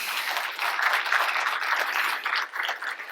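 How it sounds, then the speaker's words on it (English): Audience applause for a speaker at a developer talk, a sustained burst of many hands clapping that swells, dips briefly near the end and carries on. "I think it deserves special applause"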